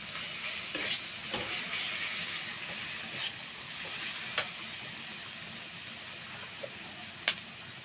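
Spice masala with chili powder frying in a pan, a soft continuous sizzle broken by a few sharp clinks and scrapes of stirring, fairly quiet.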